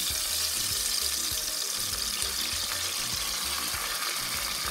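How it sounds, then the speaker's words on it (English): Tomatoes, pepper and onions hit hot oil in a pot while cooking gbegiri stew, giving a loud, steady, close hiss and sizzle of frying that runs without pause and with no talking. "the oil is heated enough, so I'm going to pour in my tomatoes, pepper, and onions"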